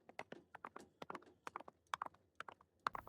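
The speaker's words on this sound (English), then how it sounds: "A rhythmic clopping, like horse hooves on a dirt path." Horse hooves clop in a steady rhythmic pattern on a soft path, fairly close and clear, with no talking.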